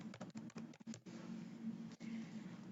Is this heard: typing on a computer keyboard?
yes